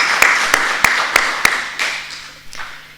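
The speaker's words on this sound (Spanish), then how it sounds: "Un aplauso grande a ellos" Applause for Alicia and Raúl at a church gathering, a handful of sharp, separate claps ringing out near and fairly loud, then thinning into a few softer scattered claps that fade away.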